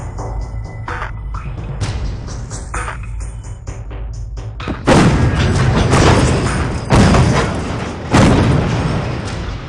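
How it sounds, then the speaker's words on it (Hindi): Bofors artillery guns bombard a mountain peak in a war film scene, heavy booming thuds and rumbling blasts rolling under a dense wash of layered battle sound, growing louder partway through. "हमारी आर्टिलरी बोफोर्स गन से पीक 5179 पर बम्बार्डमेंट कर रही है।"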